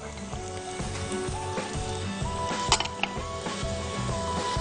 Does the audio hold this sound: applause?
no